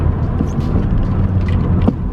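A 10th-generation Honda Civic with a gas pedal spacer downshifts from fourth to third gear, its engine giving a deep, steady drone from inside the cabin with faint road noise and no talking.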